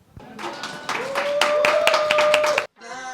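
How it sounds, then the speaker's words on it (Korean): A street-busking audience claps along in a steady rhythm of distinct close hand claps, with a voice singing a held note over them before a brief cutoff and more singing. "박수 한번 주세요."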